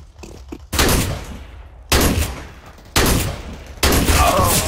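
Counter-Strike: Global Offensive gunfire at close range, four loud sharp blasts spaced about a second apart, each followed by a ringing decay, with no talking over them.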